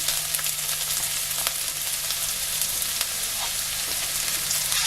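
Garlic and ginger frying in a pan while cooking Philippine pork belly pochero, a steady soft sizzle with faint crackles running throughout, close by and without talk.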